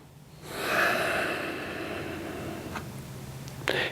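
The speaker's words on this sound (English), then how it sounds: "In and out through your nose." A person breathes in and out through the nose during back-muscle release exercises, with one long, close, airy exhale followed by a short sharp sniff at the end.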